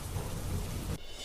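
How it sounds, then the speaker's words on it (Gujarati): Heavy monsoon-style rain pours down with a deep thunder rumble, a dense roar that cuts off abruptly near the end. "જેતપુર તેમજ ગ્રામ્ય વિસ્તારોમાં ગાજવીજ સાથે વરસાદ વરસ્યો."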